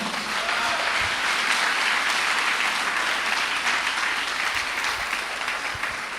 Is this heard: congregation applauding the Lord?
yes